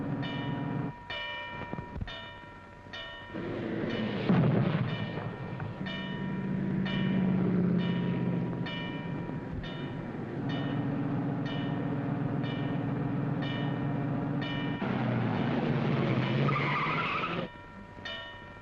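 A car, probably stolen, speeds away with screeching tire skids over a sustained engine roar, loud and close, with squeals and rumbling that rise and fall across several passes.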